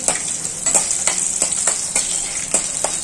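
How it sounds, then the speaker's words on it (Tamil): Dried turkey berries (sundakkai vathal) frying in hot oil, a loud steady sizzle close up, broken by a few sharper stirring scrapes at regular intervals, with no voices. "அதுக்கு முன்னாடி அதை சாப்பிட்றதுக்கு வத்தல் எல்லாம் வறுத்து எடுத்துக்கலாம்."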